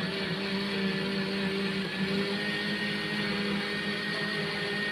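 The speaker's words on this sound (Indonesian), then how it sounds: "Lanjut, ini di blender sampai tercampur merata." A blender mixing milk and dragon fruit pudding whirs continuously at close range with a steady motor drone, no talking over it.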